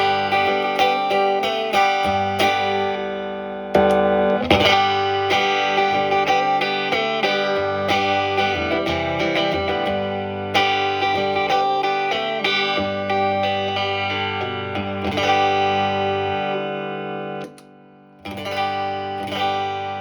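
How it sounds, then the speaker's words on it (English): Electric guitar played through a compressor pedal for added body, giving a bright, acoustic-like jangle and spark; sustained ringing chords and picked notes, close and even in level, no voices. "That's where a compressor can step in, just bump it up, give it a little more body"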